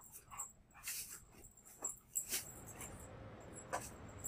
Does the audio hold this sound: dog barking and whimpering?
yes